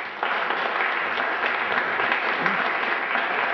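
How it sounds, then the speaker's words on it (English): Applause from an audience at a National Association of Black Accountants event, a dense even clapping that starts abruptly and holds loud and steady throughout, with no talk over it. "give yourselves a nice round of applause"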